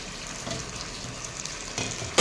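Potato slices sauté in a pan with a quiet, steady sizzle and light scraping stirs, ending in a sharper burst of noise.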